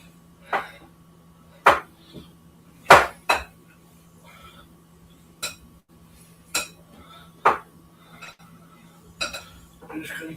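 Food is chopped in a bowl in a kitchen, giving sharp, irregular knocks and clinks, about a dozen over ten seconds, with quiet gaps between the strikes and no talking.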